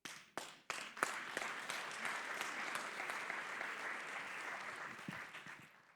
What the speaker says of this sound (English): I will start my speech today with a lot of applause for you